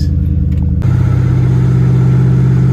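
A 2009 Mercury Marquis with a five-speed manual pulls away and accelerates on a test ride, a steady, loud mid-range engine drone that rises abruptly and holds, heard from inside the car.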